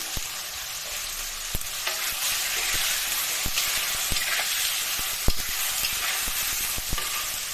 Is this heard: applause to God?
no